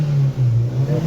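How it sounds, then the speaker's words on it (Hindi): Maruti Swift Dzire with a hard-starting fault, its engine revving up while accelerating, a loud close steady hum that dips briefly and climbs again, with no voices. "एक्सीलेरेट कर रहा हूँ ये"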